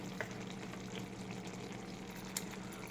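Korai mushroom sizzles steadily in a spice masala as yogurt is stirred through, a low continuous fry with a few soft scrapes and one sharper clink near the end.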